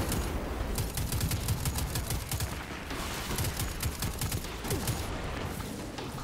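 Rapid bursts of automatic gunfire crackle continuously through a battle in the video game Destiny 2, dense overlapping volleys over a low rumble with no voices.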